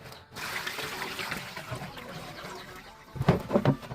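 Water poured and gushing into a bowl of salted mangoes for rinsing, a splashing, trickling flow that swells louder near the end.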